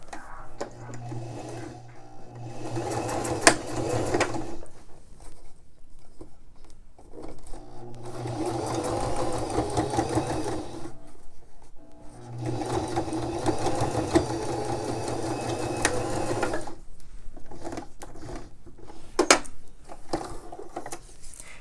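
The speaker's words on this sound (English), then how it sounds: "now all we need to do is just stitch down the sides" A sewing machine stitches down the sides of a fabric face mask in two long running bursts with a pause between, close and steady, with a brief lull before the second pass.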